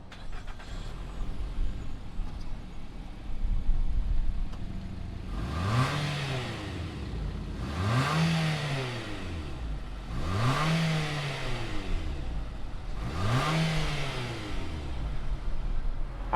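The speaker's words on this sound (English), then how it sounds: "fire up this inline four and see what it sounds like" A 2020 Nissan Altima SV with all-wheel drive and a naturally aspirated inline-four engine idles low, then revs in four distinct rising-and-falling bursts, each sweep loud and close, with a low idle between them.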